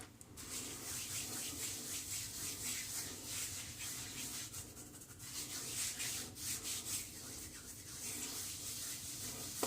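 Shaving brush lathering shaving soap directly on a scalp with a few days of stubble, a steady close-up swishing and rubbing that runs continuously without pause.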